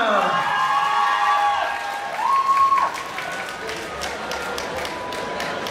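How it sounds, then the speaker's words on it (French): Audience applauding at a Paris Manga convention panel with US actors, a steady wash of clapping and some cheering throughout, with a whistling tone near the start and a voice briefly over it. "je vous demanderai d'applaudir Monsieur Josh Herman"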